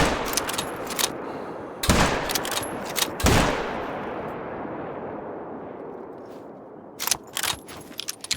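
Rifle gunfire in the hunting game theHunter: Call of the Wild, two heavy booming shots about a second and a half apart with a long rumbling decay, then a few sharper clattering bursts near the end over a constant ambient wash.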